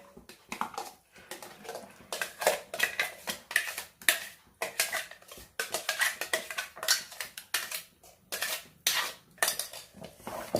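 A spoon scrapes and clatters steadily against a pan while ground gooseberry paste for nellikka lehyam is stirred over high flame, close and continuous metallic knocks in a busy rhythm, no talk.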